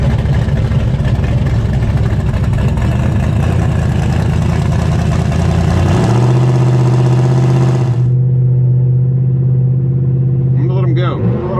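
A C3 Corvette engine at a drag race line-up runs with a steady, rumbling rev; the note shifts to a firmer, held tone about halfway through and then drops to a duller drone.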